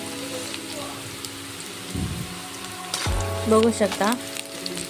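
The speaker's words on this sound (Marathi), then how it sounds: "त्यात आपण बारीक चिरलेला कांदा टाकून घ्यायचा आहे। कांदा छान असा गोल्डन ब्राऊन होईपर्यंत छान" Finely chopped onion fries in a pan toward golden brown, a steady crackling sizzle running throughout, with brief stirring knocks and someone speaking over it.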